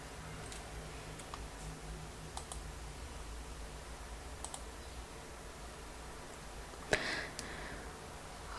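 Soft, sparse keystrokes and a sharper click or two on a computer keyboard come through faintly in a quiet room over low background hum.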